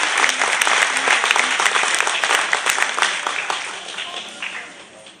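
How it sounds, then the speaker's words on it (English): Audience applause at a high school spring concert, dense steady clapping from a large crowd that gradually thins and fades over a few seconds. "Please give these folks a round of applause."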